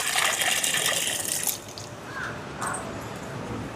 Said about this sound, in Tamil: புளியை சேர்க்க போகிறேன்.